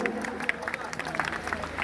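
Audience applause at a Pohela Boishakh fancy-dress show, a brief steady patter of many hands clapping amid crowd murmur, moderately loud and close.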